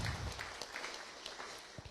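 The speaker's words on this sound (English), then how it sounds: "Give her a round of applause." A church congregation gives a round of applause, heard as faint, distant, steady clapping for a couple of seconds with no voices over it.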